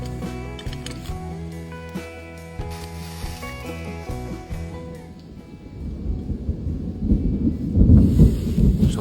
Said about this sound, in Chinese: 结果居然打雷了，估计是要下雨了